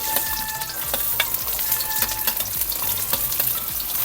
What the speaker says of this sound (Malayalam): എല്ലാം കൂടി നന്നായി വതക്കുക